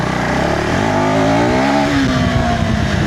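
A KTM Adventure 350 motorcycle engine revving hard in first gear, loud and close, its pitch climbing steadily as the throttle opens with an aggressive response.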